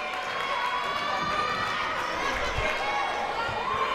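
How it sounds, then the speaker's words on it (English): Crowd cheering at a women's college basketball championship final between Queensborough and Bronx CC, a sustained loud roar filling the gym with a few thuds underneath and a commentator talking over it. "Crowd loving that as well"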